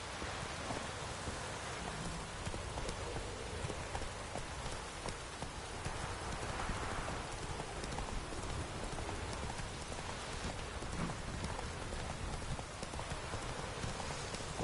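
Horse hooves clip-clop in The Witcher 3, a steady stream of hoof steps blended into a constant wash of rain on the ground, moderately loud and continuous with no talk.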